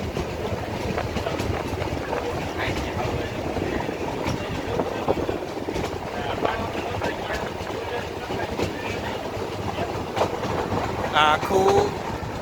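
A meter gauge train runs through the dense Gir forest, its steady rumbling and rattling carriage noise continuous and fairly loud, with faint clacks and a brief squeal near the end.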